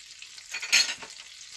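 Two tablespoons of butter hit hot olive oil in a pan with a short, bright sizzle that swells briefly, then settles to a soft hiss.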